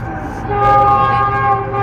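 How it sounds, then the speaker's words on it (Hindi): A train rolls past near a village, its horn sounding in a steady held blare over the low rumble of the cars, loud and close with no talk. "वो रेलगाड़ी आ गई।"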